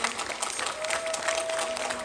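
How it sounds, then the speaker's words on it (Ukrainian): Audience applause at a festive Ukrainian evening concert: dense, steady clapping from a crowd throughout, with a voice talking over it. "Аплодуємо, аплодуємо,"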